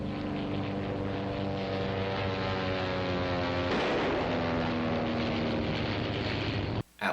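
Propeller airplanes drone steadily overhead in a film scene set around Shanghai, a loud continuous engine roar with a shifting pitch sweep midway, cutting off briefly at the end.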